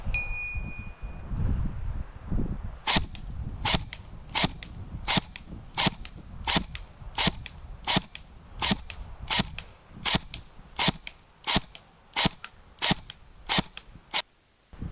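A Zion Arms R&D PW9 Mod.1 airsoft gun firing semi-auto, with about eighteen sharp, evenly spaced cracks in a steady rhythm over low background noise, no talking.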